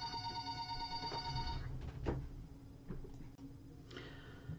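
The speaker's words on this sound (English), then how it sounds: "I had to answer that phone call" A telephone rings with a steady electronic tone at the start, then stops, followed by faint room noise and soft handling sounds.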